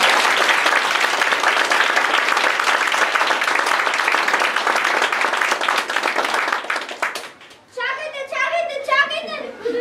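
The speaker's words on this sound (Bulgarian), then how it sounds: "Аплодисменти за децата!" Loud, sustained applause from an audience at a kindergarten graduation fills most of the clip, then fades; children's voices talk and chatter afterward.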